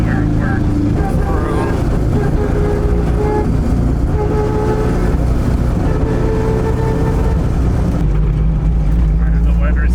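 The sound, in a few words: Toyota AE86 engine revving with Weber carburetors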